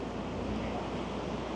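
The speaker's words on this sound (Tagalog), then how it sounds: "Ito yung alon dito, mas aliit yung mga alon dito." Waves wash steadily on a beachfront, a continuous low rushing surf with wind noise over the microphone.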